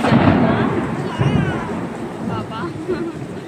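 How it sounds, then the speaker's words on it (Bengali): Thunder rumbles through a heavy evening rainstorm in Kolkata, heard from indoors beside a window, a continuous loud low roar with rain hiss that swells at the start and again midway. "প্রচুর জোরে জোরে বিদ্যুৎ চমকাচ্ছে।"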